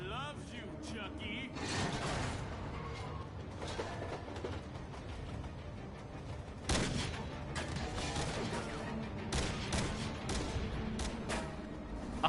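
Bursts of gunfire in the video game Dead Rising 2, rapid shots and mechanical clatter layered over a busy game mix, with someone talking over parts of it.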